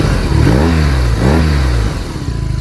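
Close, loud revving from a 2022 BMW R nineT boxer twin motorcycle: two quick throttle blips rise and fall over a throbbing low idle, then the engine settles back to a steady rumble.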